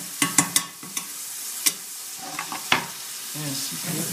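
Meat and chopped onions sautéing in a frying pan for quick spaghetti, a sizzling background broken by several sharp clinks and scrapes of stirring, close by.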